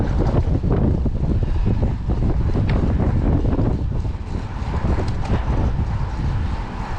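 Constant wind buffeting and roaring across the microphone while riding a road bike, loud and gusty throughout with no talk.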